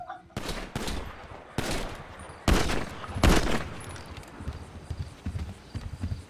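Several loud, sharp video game gunshots crack out at irregular intervals, separated by brief pauses, over a low rumbling background.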